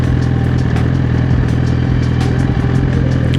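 A liter-class sport motorcycle on the road, its engine a loud, close, steady mechanical drone with rattling clatter running through the whole stretch, no voices over it.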